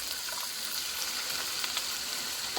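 Onions frying in butter and peanut oil over medium-high heat, a steady close hiss and faint crackle that keeps up without a break, with no talking.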